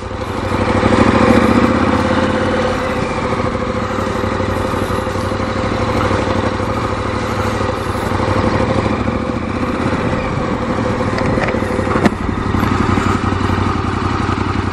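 A KTM 1290 Super Adventure R motorcycle runs loud and close throughout, with a steady, rough engine drone and slight throttle changes as the rider maneuvers, plus a sharp clack near the end.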